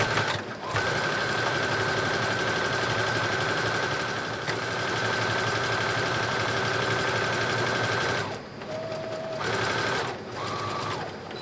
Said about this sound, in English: Now that we've sewn our side seams